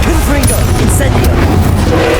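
Confringo and Incendio spells fired in Hogwarts Legacy, loud blasting and whooshing bursts over a dense, continuous bed of game combat noise, with a voice calling out.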